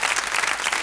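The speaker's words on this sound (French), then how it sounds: "on les applaudit très fort" Loud, dense audience applause on a French television game show set, a thick uninterrupted burst of clapping from the studio crowd.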